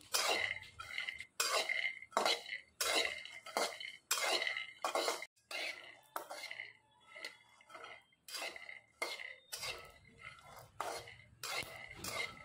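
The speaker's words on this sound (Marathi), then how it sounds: "आता आपण यामध्ये शेंगदाणे भाजून घेणार आहे। शेंगदाणे छान खरपूस भाजून घ्यायचे।" Peanuts dry-roasting in a pan, stirred so they rattle and scrape against the metal in repeated close bursts with short pauses between, fairly loud and with no talk.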